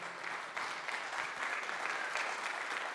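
Steady audience applause fills a hall during an opening ceremony, a dense continuous wash of clapping at moderate level with no voices over it.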